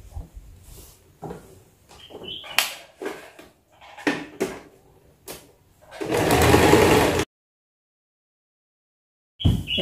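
Near the end, a sewing machine runs in one loud close burst, stitching fabric back pieces of a wrap top together. Before it come scattered handling clicks and taps, and afterward a brief silence.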